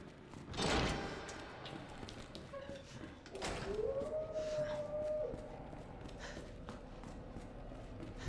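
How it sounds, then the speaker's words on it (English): In the Resident Evil 2 Remake video game, caged dogs howl, a wavering drawn-out cry rising and holding in the middle of the clip, preceded by sharp clanks and followed by faint ambient rumble. "Shoot these dogs in the cages."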